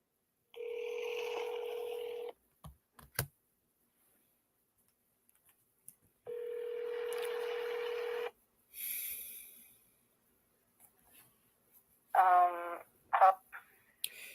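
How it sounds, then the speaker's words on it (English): Telephone dialing tones placing a call to an office phone: two long steady tone bursts separated by silence and a few faint clicks, followed by brief louder chirping bursts near the end, with no talk. "Okay, Faye, you can call in on my office phone."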